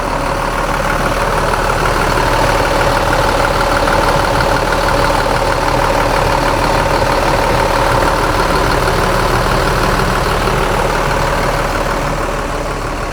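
An engine idles loudly and close by during a long road trip from Surabaya to Medan, a steady low rumbling drone that holds unbroken throughout with no talking.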